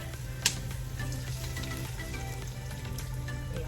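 Onions sautéing in oil with annatto added give a steady close sizzle and crackle throughout, with a brief sharp clink near the start.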